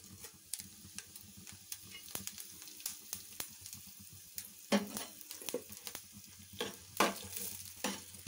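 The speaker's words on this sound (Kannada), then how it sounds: "ಎಣ್ಣೆ ಬಿಸಿ ಆಗಿದ ಮೇಲೆ ನಾನೇನು ಸ್ಪೈಸಸ್ ತಗೊಂಡಿದ್ದೆ ಈ ಸ್ಪೈಸಸ್ನ ಇದರಲ್ಲಿ ಹಾಕ್ಕೊಳ್ತೀನಿ." Whole spices crackle and sizzle in hot oil in a village-style kitchen, a soft, continuous frying hiss broken by sharp pops and ticks, close but fairly quiet, with a few louder stirring scrapes.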